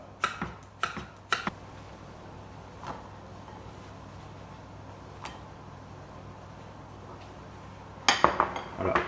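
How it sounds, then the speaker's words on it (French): A knife cuts a firm vegetable into pasta-sized pieces on a board: a few quick, sharp taps, a long quiet stretch, then a tight cluster of chops at the end, all fairly faint. "l'idée, c'est de couper un peu de la taille des pâtes"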